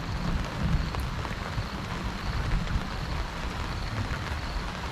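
Steady rain patters continuously on a nearby surface at a riverside campsite, a dense, even hiss of drops with no voices.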